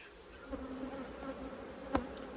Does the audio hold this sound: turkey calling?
no